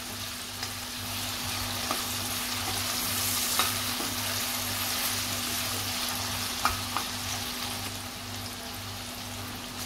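Onions frying in a pan for chavli batata bhaji, a steady close sizzle lasting throughout, with a few light clicks from stirring and a low constant hum underneath.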